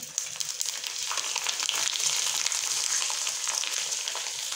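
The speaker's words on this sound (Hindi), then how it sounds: "और बहुत ही जल्दी ये फ्राई हो जाएंगे" Snacks deep-frying in hot oil, with a dense, continuous hiss and crackle that holds steady and fairly loud throughout, with no voices.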